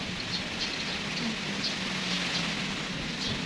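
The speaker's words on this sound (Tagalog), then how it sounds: "ulan na naman naghangin na naman doon" Continuous rain hiss with a low, blustery rumble underneath, steady throughout.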